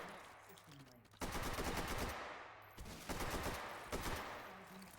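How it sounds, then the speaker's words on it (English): Rapid automatic gunfire from a competitive video game match rattles in loud sustained bursts, with a short lull between two long volleys, dense and close. "Just sniping away at him from the other side of the room"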